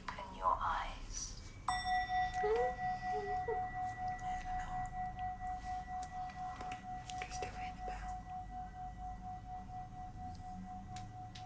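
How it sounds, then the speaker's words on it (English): A single bell struck once, giving a clear ringing tone that decays slowly over several seconds in a quiet room, after brief soft rustling. "In a moment, the bell will ring"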